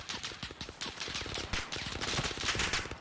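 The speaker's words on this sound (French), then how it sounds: "Je subis des tirs" Rapid automatic gunfire in the Call of Duty Warzone video game, dense loud bursts of shots rattling continuously throughout.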